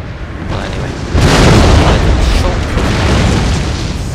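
Artillery bombardment in the Napoleon Total War video game, with heavy booming explosions rolling into a dense, loud rumble that swells after the first second and stays sustained.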